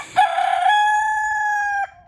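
A Leghorn rooster crows once nearby, a loud, drawn-out call that starts raspy and holds a clear, steady tone for nearly two seconds.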